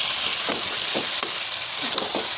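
Potato curry with kasuri methi stir-fried in a pan, a steady broadband sizzle with periodic scraping strokes of a spatula about every half second, close and continuous with no talking.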